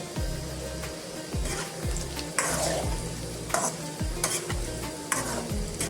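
Potatoes fry in a pan with a constant sizzle, punctuated by repeated rhythmic scraping strokes from a spatula stirring them, close and fairly loud with no talking.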